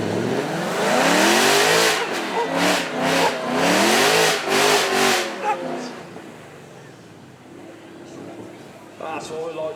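At a supercar weekend event at Beaulieu, a supercar revs hard with rising and falling engine sweeps and tyre squeal during a burnout. It is loud and close at first, then fades into crowd ambience.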